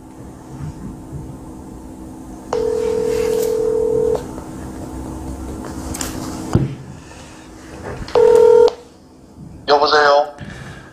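A telephone is used to place a call to a striking Samsung Transport worker staging a sit-in on a steel tower: a long sustained beep followed later by short clear dialing tones, with a voice nearby.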